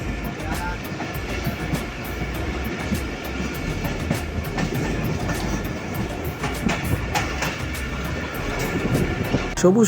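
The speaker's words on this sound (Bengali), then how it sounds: "সবুজ প্রকৃতির বুক চিরে অজগরের মতো ছুটে চলেছে আমাদের ঢালাচর এক্সপ্রেস" The Dhalarchar Express passenger train runs on the rails between Pabna and Rajshahi, giving a steady close rumble with rhythmic wheel clatter that continues throughout the clip.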